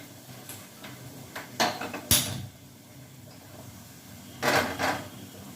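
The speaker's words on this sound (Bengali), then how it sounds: "তো আজকে ভাবলাম এটা বের করে এটাতে পেঁয়াজটা কাটি।" An onion is chopped on a chopping board in a home kitchen, giving a few sharp knife taps and clacks scattered among quieter handling sounds, close and clear with no speech.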